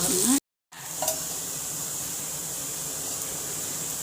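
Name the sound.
chickpea adai frying in oil on a pan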